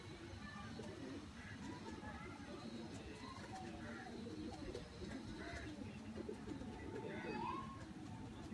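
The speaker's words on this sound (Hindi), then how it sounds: "ए देखो जरा पारा इस कबूतर का" Teddy pigeons cooing softly, with a few short coos heard amid a busy, constant background of other birds and murmuring voices; someone talks throughout.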